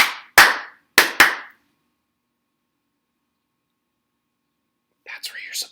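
Children clap along during a school morning message, four sharp hand claps in two quick pairs, then a long silence before soft, faint whispery voices murmur at the end.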